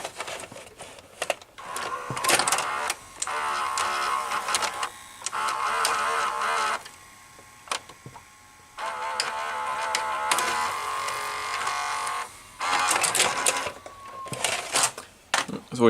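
A Sanyo VCR tape mechanism whirs and clicks in bursts, with loading and transport noises starting and stopping under a faint voice.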